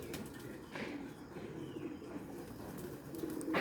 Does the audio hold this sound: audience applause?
no